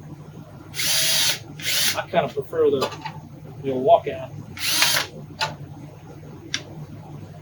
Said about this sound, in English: Now you can use any kind of drill.